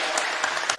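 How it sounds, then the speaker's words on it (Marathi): Brief burst of crowd clapping at a Ganesh Sankashti Chaturthi kirtan gathering in Medad, Baramati: many hands clapping together, dense and even, with a few sharper claps standing out before it cuts off. "सर्वांनी टाळ्या वाजवा."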